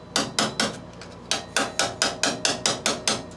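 Bent bolt locks are hammered off bolts on a 1991 Mastercraft riding mower. About a dozen sharp metallic strikes land close by in a steady rhythm, with one short pause partway through.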